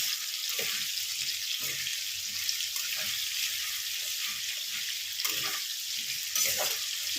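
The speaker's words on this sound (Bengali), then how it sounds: "আমি আলুটা ভেজে নিয়ে ফেরত আসছি।" Potatoes frying in oil in a deep iron kadai, a steady broadband sizzle running throughout with scattered soft clinks and stirring knocks underneath, close and fairly loud, no voices.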